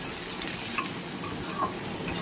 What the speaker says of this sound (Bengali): এটাকে পেঁয়াজটা ভালো করে ভেজে নেবো লাল লাল করে।